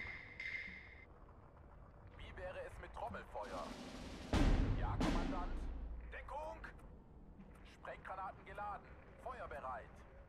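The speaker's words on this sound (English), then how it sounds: "We'll just keep that artillery coming in." A heavy artillery barrage in the Steel Division 2 wartime strategy game sounds as a deep booming impact with a long rumbling tail, followed by more distant thuds, while someone talks over it.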